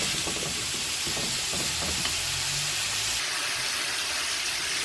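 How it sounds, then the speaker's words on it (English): Garlic sauteing in hot oil for a brown stew snapper dish, a steady close sizzle and hiss with faint stirring scrapes early on. "We're just going to saute this for like 5 minutes in oil."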